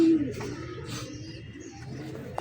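Giribaz pigeons, a pair including a hen, cooing indoors in a room while rain falls outside; soft low throaty coos run steadily through the short stretch at close range.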